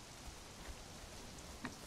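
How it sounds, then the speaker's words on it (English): Steady rain patters in the video game Conan Exiles, a soft continuous hiss with a few scattered drop taps, low and even with no speech. "It's been raining a lot."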